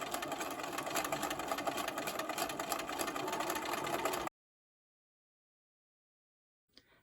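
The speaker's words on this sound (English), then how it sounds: "When I get to the end, I pick up another pair and I start stitching." Sewing machine stitching quilt triangle units in a steady, fast mechanical whir for about four seconds, then silence with a faint brief clunk near the end.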